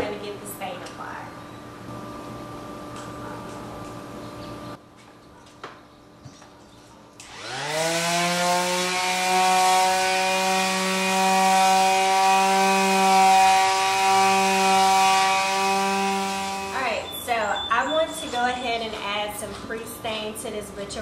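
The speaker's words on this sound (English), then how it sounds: "So I'm going to give it a really good sanding, get it super smooth" A power sander works over an unfinished wooden butcher block desk top, running as a loud, steady motor whine for about ten seconds, with talk before and after it.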